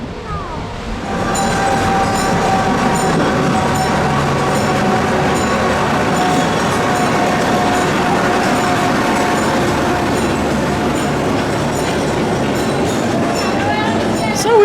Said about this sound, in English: now we're on the train